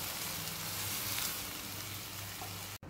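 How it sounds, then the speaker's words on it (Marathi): Milk and a little cream being stirred in a pan for coconut ladoo, giving a steady soft bubbling hiss with faint scraping, close and even, ending in a brief cutoff. "हे व्यवस्थित असं हलवून घ्यायचं आहे"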